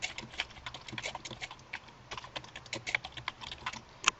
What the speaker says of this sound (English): start typing my paper